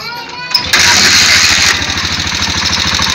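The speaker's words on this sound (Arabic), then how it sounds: "هندور الموتور ونسمع صوته مع بعض" Motorcycle engine being started after repairs for misfiring, a brief starter whir followed by the motor catching loudly and settling into a steady, close, rhythmic idle.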